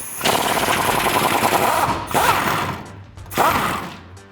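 An impact gun on a 21mm socket undoes the top bolt of a rear shock on a 2007-2018 Silverado or Sierra 1500 truck, giving three loud, close bursts of rapid hammering rattle with short pauses between.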